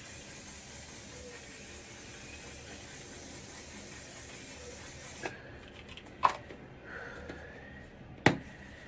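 Setting spray misted onto a face during makeup application, a soft steady hiss that runs for several seconds, then stops, followed by a few quiet separate spritzes.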